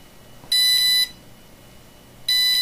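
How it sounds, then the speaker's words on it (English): Dynam ESC for an E-Razor 450 helicopter giving programming beeps: two loud, clear, high electronic tones about half a second long, spaced well apart against quiet background, with no talking. "now five double beeps"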